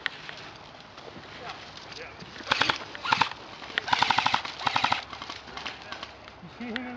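Airsoft guns firing outdoors during a game in Bolton, Connecticut, with short rapid bursts of sharp clicking shots, moderately close, while players talk and call out over them.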